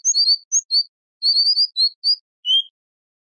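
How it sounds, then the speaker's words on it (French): A Himalayan nightingale sings a series of short, high, sweet whistled notes in irregular clusters, crisp and close with silent gaps between phrases. "Le rossignol de l'Himalaya."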